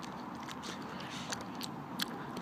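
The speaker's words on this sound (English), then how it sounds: "I'm also chewing gum now." Chewing gum close to the microphone makes soft, sticky clicks and smacks at irregular intervals over a steady low hiss, with no talking.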